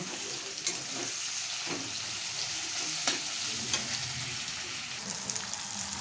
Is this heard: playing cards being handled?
no